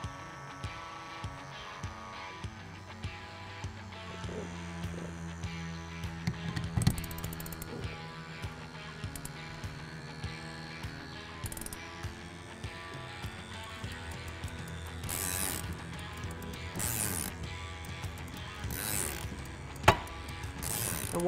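An Equalizer Raptor (F22) wire removal tool worked on a Ford F150 power slider window, ratcheting in repeated mechanical clicks with intermittent louder clacks, close and steady, with no talk.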